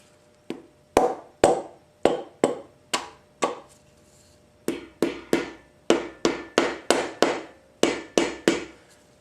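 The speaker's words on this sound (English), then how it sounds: "We're going to take a rubber end of the hammer and we'll tap down on the rod bolts" Rubber hammer tapping the connecting rod bolts of a Nissan SR20DET engine on a teardown, sharp close knocks in irregular clusters, roughly twenty strikes, with brief pauses between groups.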